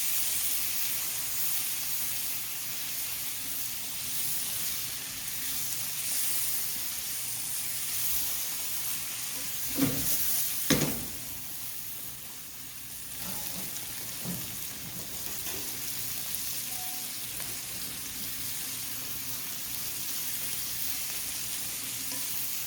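Ingredients stir-fried in a pan for Japanese cream curry udon, giving a steady hiss of frying throughout with a few louder scraping stirs partway through, no voices.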